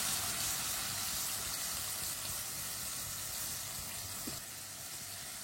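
Gosht (meat) sizzling steadily in a pan while being stirred with a spoon, a dense continuous frying hiss with faint scraping, close and even throughout.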